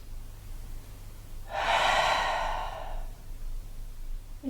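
A deep breath drawn in during a gentle lower-back yoga stretch, one soft, airy inhale lasting about a second and a half, close and fairly quiet over a low steady background hum.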